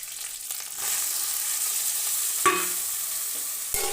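Boiled green peas go into a pan of frying ginger and green chilli, producing a continuous moderate sizzle broken by a couple of brief clatters and scrapes as they are tipped in and stirred.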